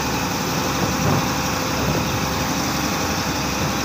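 A large bus-type engine idles steadily up close, a continuous low rumble with a broad mechanical hum and no breaks over a few seconds.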